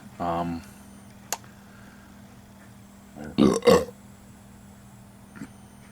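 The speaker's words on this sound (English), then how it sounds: "Oh, that's the weirdest burp ever." A person burps after drinking Sol Clamato beer: a short voiced belch at the start, a small click, then a louder, strained double belch near the middle, close to the microphone with no speech.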